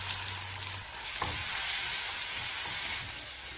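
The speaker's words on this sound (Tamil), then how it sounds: "நல்ல பச்சை வாசனை போக வதங்கணும்" Ground masala with fennel, chilli and curry leaves sizzling in sesame oil for a Tamil black-eyed pea sundal, a steady close frying hiss with a few soft stirring scrapes and no speech.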